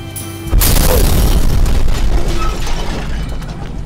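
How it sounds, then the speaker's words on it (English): A film's car explosion effect erupts suddenly into a loud, broadband boom, then rumbles and crackles on as a sustained roar of fire and debris that slowly eases, with no talking. "Thus, his parents die in a horrifying car explosion."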